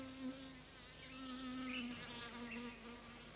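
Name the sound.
field bee buzzing among flowers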